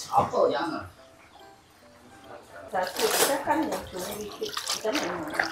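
Chopped ingredients being washed in water for making peyek, with splashing and sloshing that grows louder after a quieter pause, while someone talks over it.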